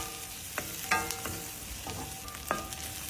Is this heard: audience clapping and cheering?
no